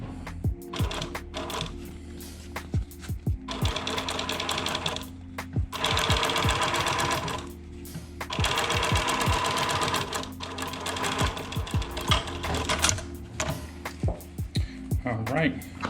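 A sewing machine stitches the shoe upper of a custom Air Jordan 1, running in loud rapid mechanical bursts that stop and start, with short pauses between runs.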